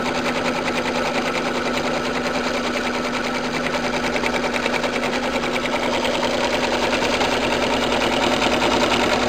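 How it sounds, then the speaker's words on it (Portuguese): An electronic quilting machine stitching a marking line on fabric, giving a steady, fast mechanical rattle that holds evenly throughout at close range with no voices. "Então, primeiro ela vai fazer uma costura"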